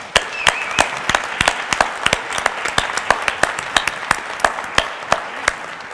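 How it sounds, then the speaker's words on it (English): Audience applause for mayoral candidates at a healthcare forum, with sharp individual claps standing out over a moderate crowd of clapping that holds steady throughout. "So let's give everybody a round of applause."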